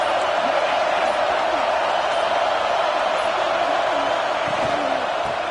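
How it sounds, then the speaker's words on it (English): A football stadium crowd roars steadily throughout as the home defense works in the red zone, a loud, dense wall of cheering with no pause, while a broadcast commentator talks over it. "And the crowd coming to life here, trying to help this defense down in the red zone."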